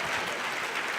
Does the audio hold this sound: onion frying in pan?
no